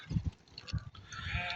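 Sheep and lambs at a livestock market in Barda, bleating in several overlapping calls close by, with a steady bustle of market noise running underneath.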